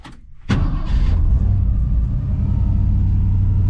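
A Ford Mustang engine fires up with a sudden roar, then settles into a loud, steady low rumble at idle, close by, with slight belt slip.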